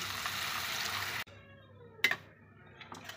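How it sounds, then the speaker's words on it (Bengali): Water poured into a pan of fried curry masala with potatoes: a steady broad rush for over a second, then quieter clinks and a brief splash near the end. "এখন পরিমাণ মতো জল দিয়ে দিচ্ছি"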